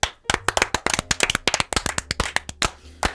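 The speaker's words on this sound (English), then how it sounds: "Round of applause." A handful of people clap together for a round of applause on a podcast, a close, sharp burst of individual claps that slows and thins out after about three seconds.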